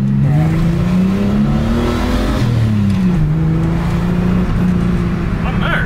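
A Ford AU Falcon accelerates hard in first gear, a loud, close engine drone rising steadily in pitch, dipping briefly at a shift point and then climbing again.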